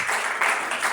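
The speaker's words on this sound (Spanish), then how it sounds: "Denle ese aplauso al Señor con el alma" A church congregation claps together in dense, steady applause for the Lord, close and even through the whole short burst.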